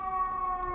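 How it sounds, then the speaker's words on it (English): An emergency vehicle siren outside holds a steady wailing tone, heard faintly and briefly from a distance through a room. "Hopefully you can't hear that, or that siren's not too loud."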